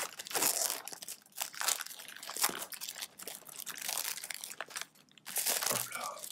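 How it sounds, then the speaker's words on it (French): Plastic shrink-wrap on a sealed Yu-Gi-Oh Ignition Assault booster box crinkles and tears in continuous dense bursts close by, with brief pauses before the wrapping rustles again loudly. "je vais tout d'abord commencer par ouvrir la boîte scellée"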